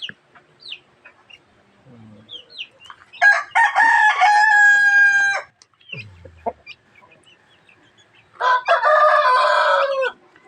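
Two long, loud rooster crows a few seconds apart, with soft clucking and chirping from Basilan chickens close by in between.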